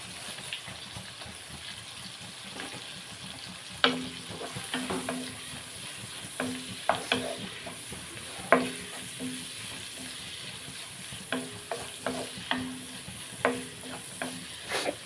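Garlic fries in a pan for a dried prawn curry while a spoon stirs it, giving a constant sizzling hiss broken by repeated scraping strokes against the metal, with no talking.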